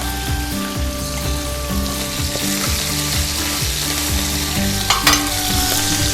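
Chicken pieces sizzling skin side down in a hot pan, a steady dense frying crackle with faint scraping and clicks, close and continuous throughout.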